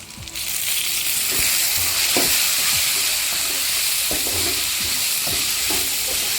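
Spices including poppy seeds sauté in a hot pan for egg drop curry, giving a loud, continuous sizzle with intermittent scrapes and clacks of stirring close by.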